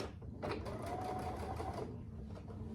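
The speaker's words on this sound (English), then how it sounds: "Then I'm going to sew this down the whole side at 1/4 inch." A sewing machine stitches a quarter-inch seam down the side of a pinned quilt block, a fast, steady mechanical whir running close and continuous with no talking.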